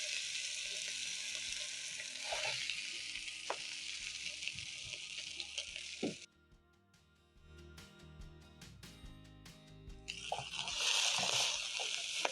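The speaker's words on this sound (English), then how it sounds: "use a spatula and stir in the kale as it's cooking" Curly kale sizzles and fries in a hot pan with onions while a spatula stirs it, a steady hiss broken by scraping strokes, dipping briefly to quieter clinks midway before the loud frying returns.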